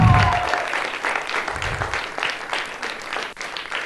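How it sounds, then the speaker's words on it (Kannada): Audience applause for an aerial act at a children's dance performance, a steady wash of clapping from a large crowd that holds for about four seconds without fading. "ಚಪ್ಪಾಳೆ"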